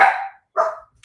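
A dog gives two sharp barks in quick succession in a quiet room, the first slightly longer, followed by silence.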